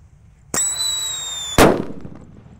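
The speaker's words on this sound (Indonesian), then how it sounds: "ada mercon King Thunder bosku. Ini yang suaranya menggelegar. Kita nyalakan pagi ini" A King Thunder firecracker is set off outdoors in the morning: a shrill whistling tone runs for about a second, then a single loud, sharp bang follows and decays into fading rumble.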